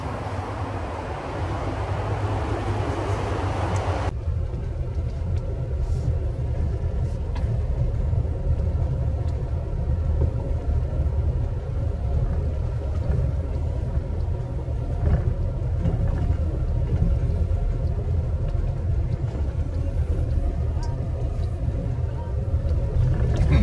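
Car driving along a road through a wooded area, a steady low engine and road rumble heard from inside the vehicle, continuous and moderately loud, with some wind noise at the start.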